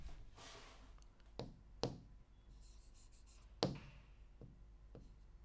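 A pen scratches and taps on paper during an English lesson, quiet and close, with several short strokes and firmer taps spread out against a soft background hiss.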